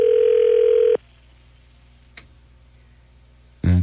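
An outgoing telephone call rings in the earpiece, one loud steady ring tone that stops, a quiet gap with a faint click, then the next ring begins, heard alone.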